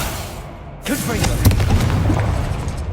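A Confringo fire spell explosion in the Hogwarts Legacy video game: after a quieter start, a sharp booming blast hits, followed by rumbling, crackling bursts that sustain at a loud level to the end.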